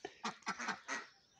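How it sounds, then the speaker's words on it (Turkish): Ducks and geese at a poultry farm in Sungurlu raising many kinds of fowl, giving several short nasal honks and quacks in quick succession, fairly close and moderately loud, with no talking. "Çok fazla ördek, gaz, tavuk çeşitleri var"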